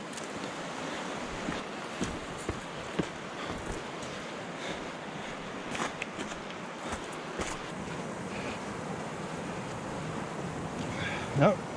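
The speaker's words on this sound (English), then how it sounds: "You still have those waves." Floodwater runs down a gorge after a flash flood at Klein Pella, with waves washing over the surface. The water makes a continuous low rush under steady wind noise, with scattered small splashes and knocks.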